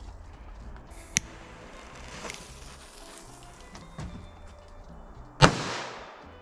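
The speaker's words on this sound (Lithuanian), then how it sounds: "Kūrenam petardą" A firecracker from a bag of petards is lit, with a small crackle early on and a single sharp, loud bang near the end that rings out and fades, outdoors and without speech.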